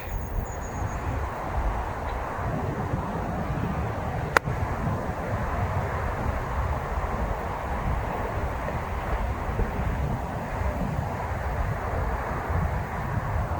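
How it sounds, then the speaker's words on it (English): A strong breeze blows across a golf course, making steady, loud buffeting wind rumble against the microphone with one brief sharp click, no talking. "So it's a strong breeze at my back here"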